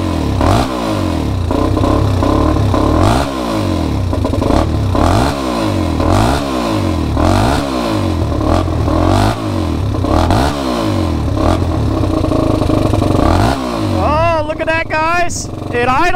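An ATV or dirt bike engine with a rough-running fault idles steadily up close, a loud, lumpy chugging rhythm that holds throughout before it begins to fade near the end.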